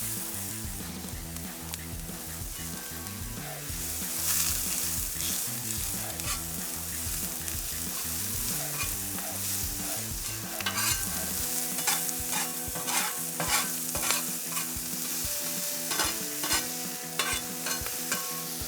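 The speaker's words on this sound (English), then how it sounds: "I do need to get these onions on here and we're gonna get those caramelized" Onions frying and caramelizing in butter on a griddle, a continuous close sizzle with a low steady hum underneath and frequent sharp crackles and pops that grow denser toward the end.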